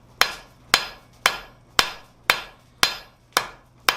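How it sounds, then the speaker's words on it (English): A hammer strikes hot metal on an anvil eight times at an even, brisk rhythm, each blow sharp, close and ringing, with no talking. "she's going to be using the hammer blows right on top of that radius to neck that down"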